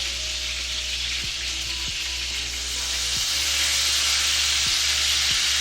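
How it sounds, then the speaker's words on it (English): Ribeye steak sears in a pan with a loud, steady sizzle and hiss that builds slightly, with a few faint knocks underneath and no talking. "Gonna sear the side a little bit."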